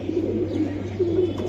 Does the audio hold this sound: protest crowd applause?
no